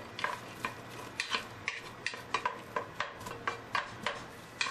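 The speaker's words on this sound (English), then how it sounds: "Throw in some butter or margarine. And start with just the onions." Onions frying in butter in a pot over medium heat, mostly heard as a rhythmic series of spoon scrapes and stirring taps over a faint low sizzle, close and fairly quiet with no talking.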